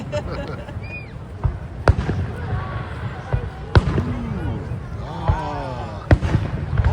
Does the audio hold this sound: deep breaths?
no